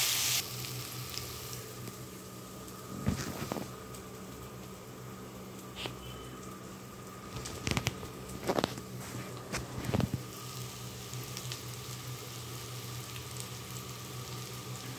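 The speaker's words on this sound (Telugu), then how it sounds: "1/2 టీ స్పూన్ ధనియా powder, ginger garlic paste, garam masala వేసేసుకొని ఒకసారి ఫ్రై అయ్యించేద్దాం." Spices including coriander powder, ginger garlic paste and garam masala fry in a pan for a mango mutton dish, giving a continuous close sizzle broken by a few sharp clinks and scrapes of stirring, with no talk.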